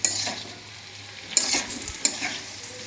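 Fried potatoes and tomato are stirred in a pan for aloo posto, giving a steady close sizzle broken by a few sharp spatula scrapes against the metal.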